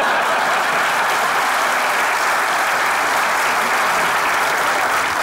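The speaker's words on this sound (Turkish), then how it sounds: "Erzurumlular alkışlıyor." A studio audience from Erzurum applauds continuously, dense steady clapping that stays loud and even throughout with no voices on top.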